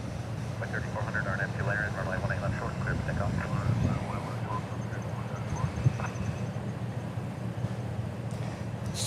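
A Qantas airliner at DFW Airport sends a steady, moderately loud jet rumble, with a voice talking over it through the first half.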